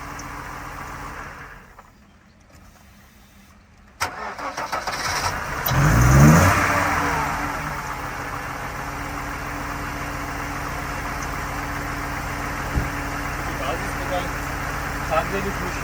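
A 1992 Mercedes 190E with the M104 engine cranks and starts after a short quiet gap, then revs up once and settles into a steady idle, close by, with people talking over it.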